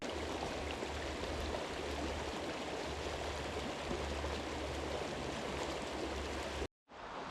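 Moore's Creek near Idaho City, Idaho flows with a steady, full rush of water close by while water is being collected at a bikecamping site. The sound stays even throughout and drops out briefly just before the end.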